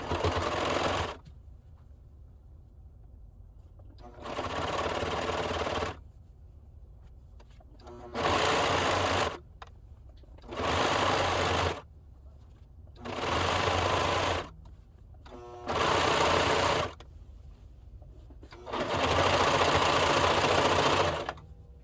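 Home sewing machine stitching the hem of a raglan t-shirt, running in about seven steady whirring bursts of a few seconds each with short quiet gaps between, close and loud.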